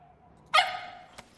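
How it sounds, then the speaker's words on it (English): A single loud, close dog bark rings out in a quiet room, trailing into a brief whine, followed by a faint short yip. "He normally only barks at Germans."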